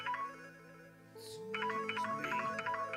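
A telephone ringtone plays a sustained electronic melody of steady tones and rising, falling sweeps, briefly broken by a voice speaking in the foreground.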